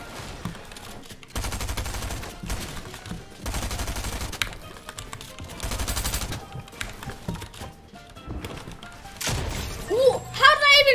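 Repeated bursts of gunfire while shooting an opponent in Fortnite Arena, loud rapid volleys separated by short pauses, with a shattering crash and a speaking voice toward the end.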